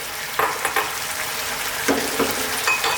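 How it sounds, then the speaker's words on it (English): Penne pasta drops into a pan of spicy arrabbiata tomato sauce that sizzles steadily, with a few spoon scrapes and stirring knocks close by against the frying hiss. "Time for our pasta. Like I said, I'm using a penne. In that goes."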